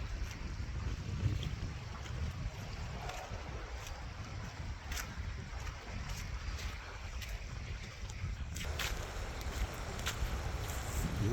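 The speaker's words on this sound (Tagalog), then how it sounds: "Lakas ang alon. Kasi malakas ang hangin." Strong wind buffets the microphone beside a wide lake, with choppy waves washing and churning steadily underneath; the roar stays loud and constant throughout, with no speech.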